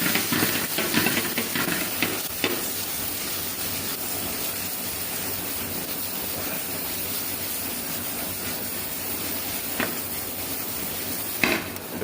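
Onions sizzling and hissing steadily in a hot pan for a Sri Lankan seeni sambol, with a constant broad frying hiss and a few brief stirring scrapes, no voices.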